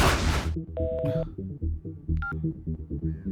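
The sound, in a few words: telephone tones of an incoming call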